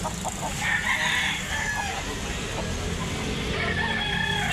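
At the Tabunok market in Talisay, Cebu, many roosters for sale crow against a noisy, crowded backdrop, with a strong crow early on and more calls trailing later.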